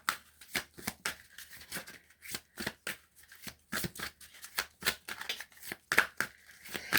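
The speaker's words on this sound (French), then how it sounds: "Je vais prendre 2 ou 3 cartes" Playing cards shuffled and drawn by hand during a card reading, a quick run of crisp papery flicks and slaps in uneven bursts, close and moderately loud, with no talking.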